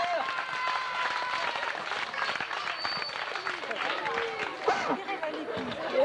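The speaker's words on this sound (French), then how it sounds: "on applaudit Christophe" Audience at a 1993 stage show applauding a contestant named Christophe, steady clapping mixed with crowd chatter and babble, moderately distant and continuous.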